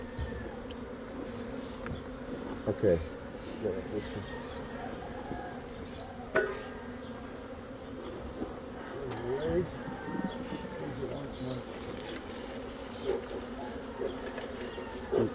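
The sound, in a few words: bees buzzing during a bee rescue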